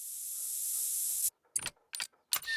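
Cover scent spray in theHunter: Call of the Wild, a broad steady hiss lasting over a second that cuts off abruptly, followed by a few short mechanical clicks and rattles.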